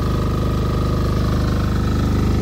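MEP 831A diesel generator engine running roughly while smoking and leaking fuel, a loud, steady close-up drone with a fast regular chugging pulse throughout, no voices.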